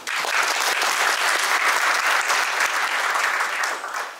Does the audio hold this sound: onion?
no